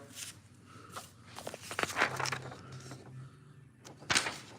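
A drawer sliding open and shut with short rumbling scrapes and a couple of knocks, close and fairly quiet, with a brief low hum in the middle.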